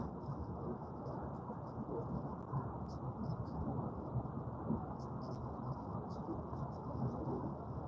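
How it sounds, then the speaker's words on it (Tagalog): Heavy rain in Dubai pours in a dense, constant roar, with a low rumbling underneath and faint higher chirps in the background. "Ang lakas ng ulan."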